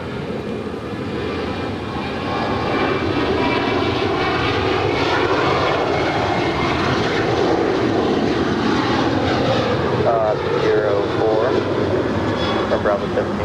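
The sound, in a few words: American Airlines Boeing 787 Dreamliner departing LAX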